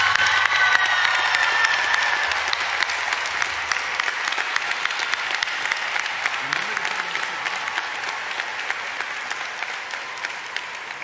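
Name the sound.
audience applause for School of Medicine graduates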